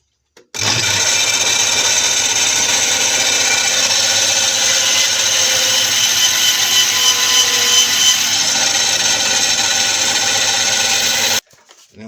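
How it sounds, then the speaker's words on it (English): A bandsaw runs steadily as it cuts a wooden workpiece, a continuous high, buzzing whine that starts abruptly and stops after about eleven seconds. "So we'll start up here on the bandsaw."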